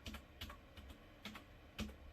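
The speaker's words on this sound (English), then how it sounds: "you can't really see what password I'm typing anyways" Password typed on a computer keyboard while upgrading a late 2009 21.5-inch iMac A1311: a quiet run of separate key clicks in an uneven rhythm, close and soft, with no talking.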